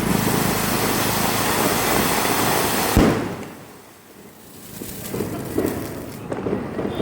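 A steady loud hiss of fizzing Diwali fireworks cuts off with a sharp pop, followed by quieter crackling and distant bangs.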